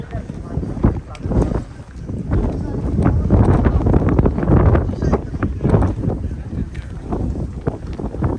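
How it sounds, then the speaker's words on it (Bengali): Strong wind buffets the microphone outdoors by the water near boats and windmills in the Netherlands, a loud, continuous low roar with gusty swells throughout, a voice partly buried beneath it. "খুব বাতাস।"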